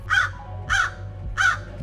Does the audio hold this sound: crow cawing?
yes